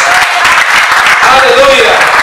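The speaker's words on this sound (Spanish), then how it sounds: "Dale ese aplauso a Dios." A church congregation claps in dense, continuous applause. Voices carry over the clapping throughout.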